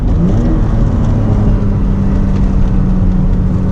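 A V6 MR2 car engine drones steadily on a mountain drive, holding a smooth, even hum close up with no voices.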